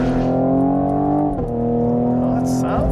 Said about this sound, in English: Acceleration, foot to the ground.